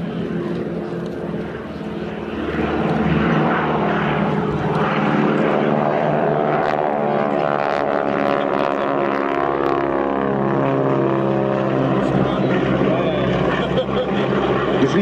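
Propeller aircraft roar overhead at an airshow, a droning engine sound that rises and shifts in pitch as the planes pass, loud and sustained.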